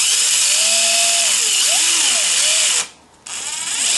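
A power drill spins a rover wheel fitted on a threaded shaft, giving a loud, steady high-pitched whine with shifting tones that cuts out briefly near the end and then starts up again.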